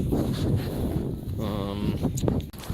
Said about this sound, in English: it's really windy back here